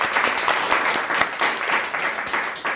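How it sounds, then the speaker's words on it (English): A small audience at a falafel cooking demonstration claps after tasting, a modest spread of uneven hand claps at moderate loudness that continues steadily without speech. "You can clap."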